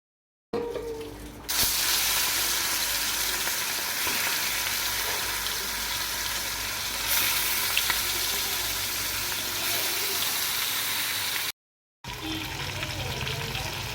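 Food frying in a pan with a steady, loud sizzle and hiss that runs almost unbroken for several seconds, briefly cuts out, then resumes.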